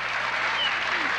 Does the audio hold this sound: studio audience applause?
yes